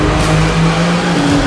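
BMW car accelerating hard on a downhill stretch of a race track, a steady loud engine drone with a sustained low tone throughout, close and continuous with no talk.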